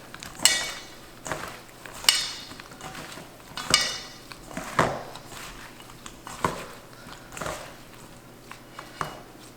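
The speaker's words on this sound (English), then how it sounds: "we'll try to evenly combine that butter with the potatoes with all those seasonings on it" Sliced potatoes being tossed with melted butter and seasonings in a dish, a series of spaced utensil clinks and scrapes against the bowl, close and fairly quiet, with no talking.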